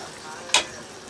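A short scraping stir of onion into okra paste frying in a pan for Liberian fried okra, one brief bright swish over a quiet low sizzle.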